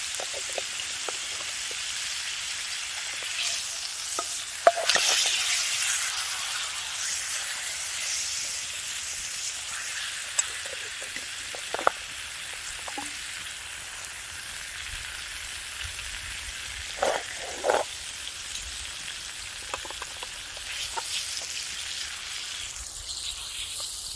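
Steak sizzling in a pan on an overnight hike on the Ozark Trail, a steady soft hiss that runs throughout with occasional faint pops and clinks, no talking.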